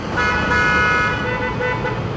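A car horn sounds in a sustained toot over steady traffic noise, fading and returning briefly, on the Stelvio Pass.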